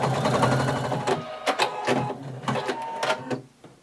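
Sewing machine stitching a seam on a color-blocked pullover top, a close rhythmic mechanical whir broken into short bursts and stops.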